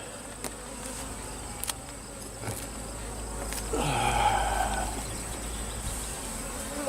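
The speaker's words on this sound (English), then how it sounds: "There's just a lot of bees in here." Honey bees swarm in a dense, steady buzz from an open backyard hive being smoked, the drone swelling louder for a few seconds midway with faint clicks of handling on top.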